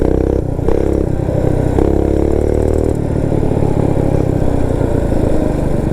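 A Motovox minibike powered by a Predator 212 engine runs loud and close, its small single-cylinder motor buzzing hard with rising and falling revs and a rough, rattly tone throughout.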